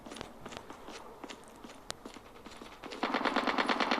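Video game gunfire, including an AKM, comes first as scattered single shots and clicks, then in the final second turns into a fast, loud burst of automatic fire.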